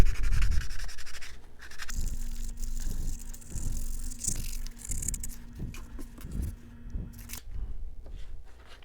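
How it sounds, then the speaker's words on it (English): Sandpaper rubs a metal clevis pushrod for an RC plane build, making a run of rhythmic back-and-forth scratching strokes, about six close, even passes at a steady pace, with a faint hum behind. "So just using sandpaper here."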